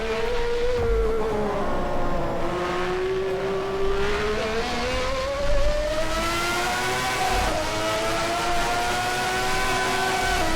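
A race car engine in a driving video game, running the Interlagos circuit backwards, climbs and dips in pitch as it accelerates, eases off and shifts down, a loud continuous buzzing drone with no talk over it.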